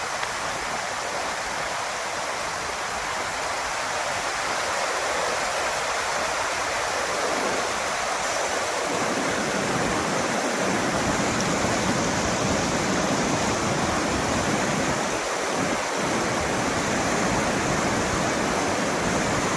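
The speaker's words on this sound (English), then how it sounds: "River crossing, not river, it's actually a waterfall." A waterfall at a river crossing roars in a steady, dense rush of water that fills the whole clip, close and constant, with no voices.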